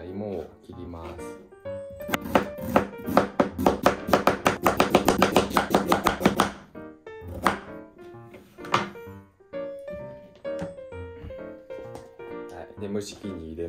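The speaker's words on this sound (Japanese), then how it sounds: "じゃあ芋を切ります。" Rapid knife chopping of potatoes on a cutting board, a quick run of sharp thunks, amid people talking nearby and occasional kitchen clatter.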